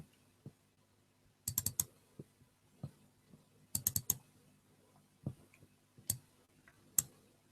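A computer mouse clicks during computer work, some clicks single and some in quick clusters of three or four. Crisp close taps sit over near silence, with faint low murmurs in between.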